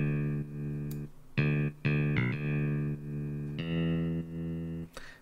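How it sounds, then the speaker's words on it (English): A synthesized bass line from an electronic song, sustained low notes starting and stopping in short phrases with clear gaps, steady and fairly loud with no talking. "This is a bass. It gives some groove to the bass line"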